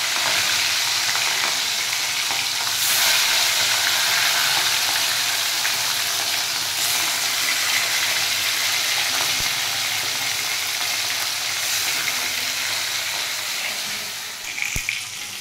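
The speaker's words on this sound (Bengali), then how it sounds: "খাওয়ার আগে একটু পাঁপড় ভেজে নেব" Papad frying in a pan, a steady close hiss of sizzling oil that runs unbroken for the whole stretch, slightly quieter toward the end, with no talking.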